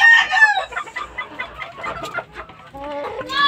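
Fighting roosters crow and cluck close by in a gamefowl yard, with several overlapping calls, a long crow at the start and more clucking and crowing toward the end.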